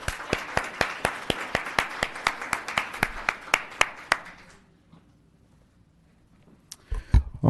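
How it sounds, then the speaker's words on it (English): A small audience at a town council meeting gives sparse, evenly spaced claps. They stop after about four seconds, then near silence follows before a few louder knocks and rustles at the end. "A round of applause for Miss Diana Hill."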